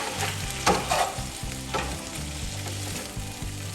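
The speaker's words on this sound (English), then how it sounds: "I keep the juice to cook the onions in it. Now we cook the onions." Onions fry in beef juices left from searing meat for a beef, onion and mushroom stir fry, a close, lively sizzle broken by spatula scrapes and stirring knocks.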